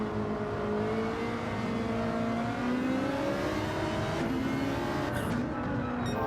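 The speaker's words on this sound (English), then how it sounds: "Listen to the violent downshifts from this ride." A race car engine in a sim racing game winds up loud and steady, its pitch climbing through the gears before a sharp downshift burst near the end, with no other sound over it.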